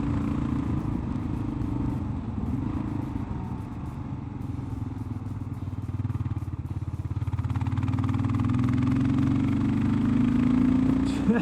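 Kawasaki KLR 650 motorcycle with a new exhaust header, its thumping engine pulling from low revs and rising in pitch, steady and close with wind noise over it.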